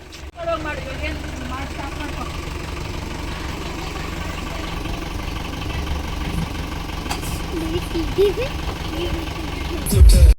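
A vehicle engine idles, waiting to be blessed in a puja before a temple trip, with a steady, continuous low rumble throughout and faint voices in the background.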